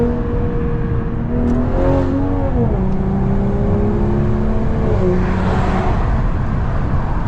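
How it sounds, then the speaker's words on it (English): A turbocharged 2020 BMW M340i, tuned to Stage 2 with about 600 horsepower, pulls hard from inside the cabin, its loud engine drone rising in pitch through a couple of gear changes, steady and close with no one speaking. "The damn turbo sound."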